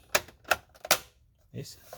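A printer's plastic cover snapping shut during preventive maintenance, heard as a few sharp, close clicks in quick succession, followed by a softer knock.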